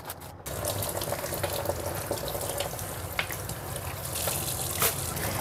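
Tap water runs steadily into a kitchen sink while unpeeled vegetables are washed, a close, continuous splashing stream with small knocks and drips throughout.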